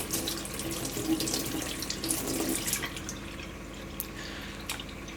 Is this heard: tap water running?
yes